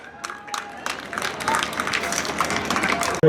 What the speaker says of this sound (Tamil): அவனுக்கு ஒரு பலத்த கரகோஷம்